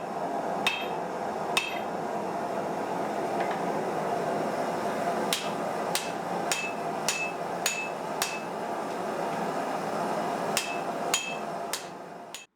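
A hammer strikes leaf spring steel to flatten it for a knife, giving sharp metallic blows spaced irregularly, with a quick burst of several in a row, close and ringing over a faint background hum.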